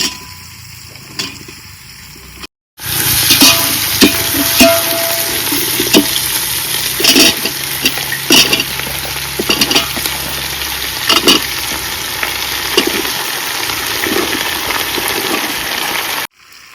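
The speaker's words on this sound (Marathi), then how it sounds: "तर आता ही गरे असत ना, ते मी फोडणीत टाकते." Jackfruit pieces frying in a spiced tempering in a village kitchen, a dense steady sizzle with scattered scrapes and clinks of stirring, loud and close, running for most of the span after a brief quiet start.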